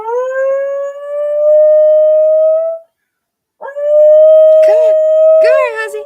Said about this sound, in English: So every time there's sirens, HAZMAT howls.